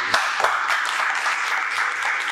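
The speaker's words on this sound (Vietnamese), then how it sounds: "đó là tiếng vỗ tay" Audience applause fills a professional MC training class at a Ho Chi Minh City youth cultural house: steady, dense clapping from a room of people, moderately loud and continuous with no voices over it.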